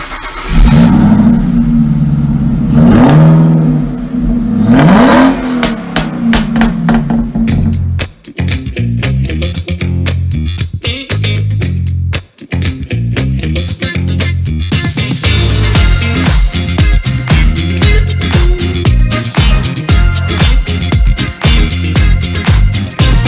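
A Subaru Crosstrek engine revs loudly and close up, rising and falling in pitch over the first several seconds, then carries on as a steady, busy drone under other dense sound as the car drives.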